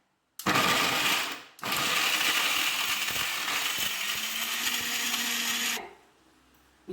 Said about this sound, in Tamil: போட்டு ஊற வச்ச மஞ்சள் எடுத்து மிக்சியில் போட்டு அரைக்க போகிறேன்.